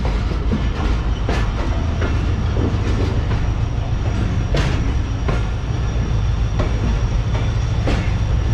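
Pak Business Express train running on rails, overtaking the Millat Express, a loud, constant rumble from close by, with rhythmic clickety-clack wheel beats and occasional sharper clanks, no talk.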